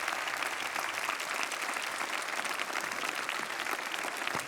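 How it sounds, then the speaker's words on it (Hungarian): A jury gives a standing ovation at the final of the Hungarian Virtuózok 2025 talent show: dense, steady applause fills the whole stretch without a break, loud and close. "Láttad, hogy állva tapsolt a zsűri?"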